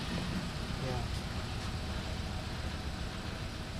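A misfiring Hyundai Accent engine idles with a steady low rumble and heavy vibration, running continuously close by with no clear start.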